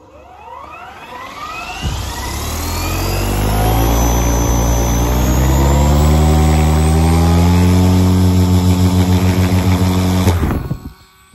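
An SAB Goblin Kraken 580 RC helicopter spools up from about two seconds in, its rotor and motor whine rising into a loud, steady harmonic drone that holds for several seconds before cutting off abruptly.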